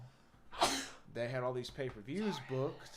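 A single sharp sneeze bursts out near the start, followed by someone talking.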